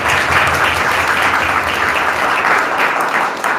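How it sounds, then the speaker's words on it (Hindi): A church congregation claps to thank God, a loud, dense, steady applause of many hands that carries on evenly and thins slightly toward the end. "हम लोग ताली बजा के परमेश्वर को धन्यवाद देंगे।"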